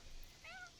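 A single short, faint meow from a cat named Chanel being petted in The Sims, rising and falling briefly over quiet background noise.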